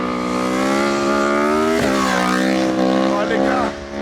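A race motorcycle revs loudly and steadily close by, its engine note holding a stacked harmonic tone that dips and rises midway as the throttle shifts during a wheelie attempt at a motocross outing.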